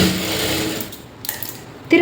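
A sewing machine runs a short straight seam on a lined blouse, whirring steadily for under a second before stopping, followed by faint handling clicks and a brief knock near the end.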